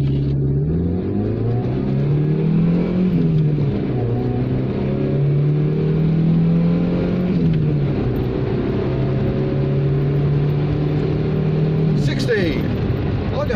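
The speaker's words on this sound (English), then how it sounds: "I'll do a 0-60 test right here." A 1.5-litre Proton Saga Aeroback, a small pre-2001 hatchback, accelerates hard in a 0-60 test, its engine droning close and loud with rising pitch through gear changes, steady throughout.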